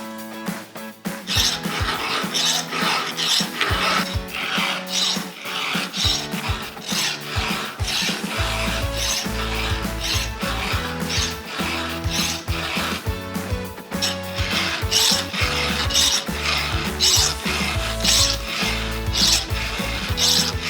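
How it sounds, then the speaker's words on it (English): A dull chainsaw chain is hand-filed to sharpen it, producing a long series of rhythmic rasping strokes with ratcheting, metallic scrapes, close and steady throughout. "this saw here is one of my absolute favorites, and it's a little dull, so we'll sharpen up the blade really quick"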